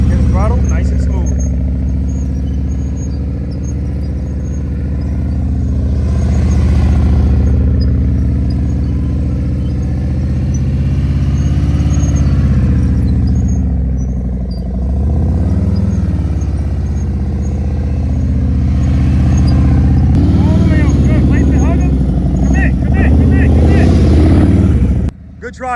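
A motorcycle engine at low speed during slow-speed riding practice around cones, a steady mid-pitched idle and gentle throttle swells running continuously beneath an instructor's spoken coaching.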